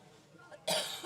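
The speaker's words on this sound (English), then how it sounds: "I've got a cough now." A single sharp cough bursts out close and loud after a moment of quiet room tone.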